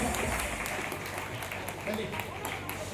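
A congregation claps at a revival meeting in Ambala, Haryana, a dense, steady patter of applause under a loud, continuous wash of crowd noise and voices.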